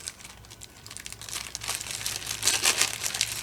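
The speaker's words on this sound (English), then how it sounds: "We'll unwrap a piece of fake skin." Plastic packaging crinkling and tearing as a piece of silicone fake skin for tattoo practice is unwrapped, close and growing louder toward the end, with no voices.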